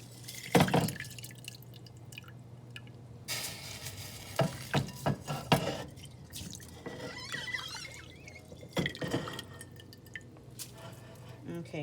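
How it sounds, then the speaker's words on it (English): Four cups of rice being poured into a pot of Jamaican rice and peas, with a few sharp rattling bursts and liquid stirring and dripping between them, fairly close and moderately loud. "So I'm putting in my rice right now"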